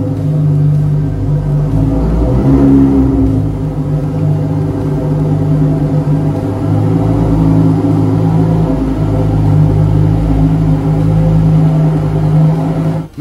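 A 640-horsepower Lamborghini Huracán Evo rumbles out of a dealership garage, a deep idling engine drone with a brief swell of revving early on, steady and close.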